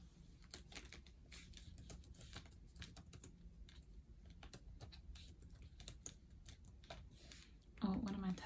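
Computer keyboard typing with rapid, irregular clicks of keys, fairly faint under a steady background hum, ending with a louder burst near the close.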